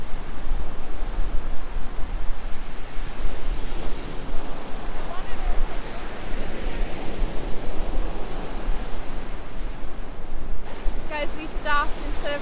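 Steady rushing surf of ocean waves in the Bahamas, broadband and continuous, with a voice briefly audible near the end.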